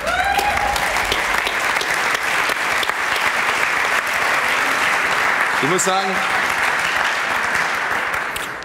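A German television talk-show studio audience claps in dense, continuous applause from start to finish, while a voice speaks briefly over it.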